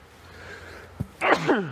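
A single close sneeze after a brief quiet moment, with a quick sharp intake followed by a loud burst.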